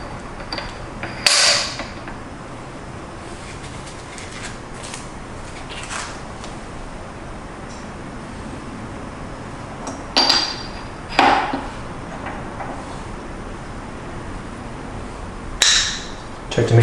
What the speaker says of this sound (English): I'm going to replace with the SSP burrs now, starting with the top burr